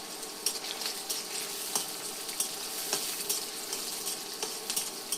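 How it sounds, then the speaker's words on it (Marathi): Tomatoes sizzle in plenty of hot oil in a pan as a spoon stirs them, bright continuous frying hiss punctuated by regular scraping clacks, close and fairly quiet. "आता ही पूर्ण एकजीव असं परतून घेते मी छानपैकी"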